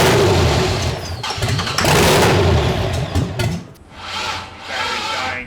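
LS V8 engine swapped into a Mazda Miata cranking and catching on its first start, loud, rough running with broadband roar and clattering bursts, dipping briefly then surging again near the end.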